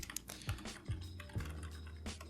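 Someone types code on a computer keyboard at close range, with quick, uneven key clicks and a few heavier thumps in a rapid run, and no voices over it.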